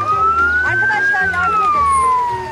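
An ambulance siren arriving, loud and close as a single rising then falling wail, over engine rumble and faint voices.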